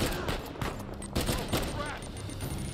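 Gunfire in the video game Uncharted 4, a quick fusillade of sharp shots with background game noise, brief and fairly loud.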